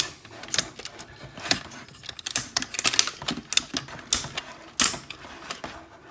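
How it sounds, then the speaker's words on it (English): Plastic joints of a Mastermind Creations R-36 Inventa toy figure clicking and ratcheting as the legs are folded, a close series of sharp, irregular clicks and snaps with no talking. "fold the legs straight up, 90-degree angle, and then fold the foot down into the body"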